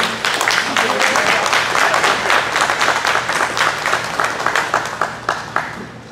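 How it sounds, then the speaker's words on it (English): A loud, close round of applause from an audience at a scholar-athlete award presentation, dense clapping that holds steady and then tapers off over about six seconds. "Please give a round of applause to Olivia Croom."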